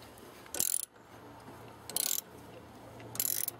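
A hex drive ratchet loosens a motorcycle foot peg bolt, with three close, crisp bursts of ratcheting clicks separated by short pauses in a quiet workshop.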